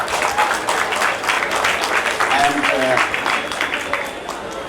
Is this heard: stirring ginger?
no